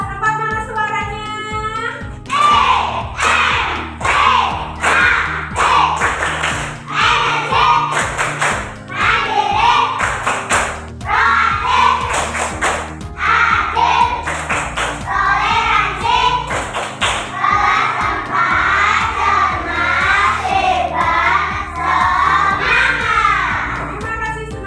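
Primary school class 4 children shouting and cheering together in a classroom, with rhythmic claps and thumps in a loud, continuous chant-like burst that persists throughout.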